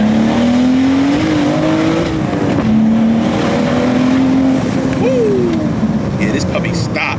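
A built BMW M235i with a six-speed manual revs and pulls hard under load on backroads, its pitch climbing steadily, with wind and road roar and a passenger talking over it.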